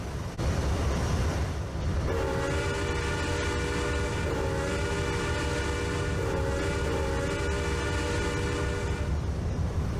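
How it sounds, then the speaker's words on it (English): Locomotive horns sound in long sustained chords with short gaps as engine 3751 departs from a gathering of other locomotives in Barstow, over a low rumbling idle; several drawn-out blasts, loud and near, with no voices. "3751 departed, and all of the other locomotives said goodbye to each other, with horn shows and a whistle"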